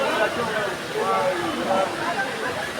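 Cascading water from a waterfall at the Sitakunda pilgrimage site, a steady broadband rush heard close and continuous, with people talking over it throughout.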